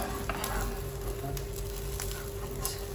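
An omelette sizzles steadily in a frying pan right after being flipped, a continuous close crackle of frying that runs alone for the whole stretch.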